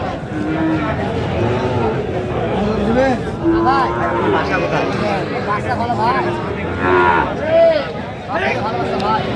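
Sahiwal bull calves moo repeatedly amid a busy cattle market crowd, low drawn-out bellows rising over steady chatter and babble from many nearby voices.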